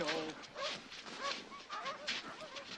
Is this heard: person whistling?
no